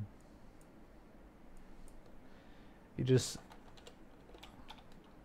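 Keys tapped on a computer keyboard: faint sparse clicks across the stretch and a brief louder burst of typing near the middle, with low background noise.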